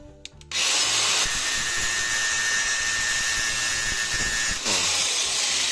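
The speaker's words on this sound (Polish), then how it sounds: "Zaraz sprawdzimy szlifiereczką." An angle grinder whines up and bites into metal, a loud continuous screeching grind lasting several seconds before briefly dipping near the end.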